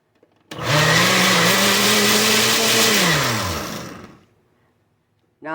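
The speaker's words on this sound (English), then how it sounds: "Now blend it." A blender whirs through a pumpkin spice ice cream latte, starting abruptly and running loudly for about three and a half seconds with a shifting motor pitch before spinning down to silence.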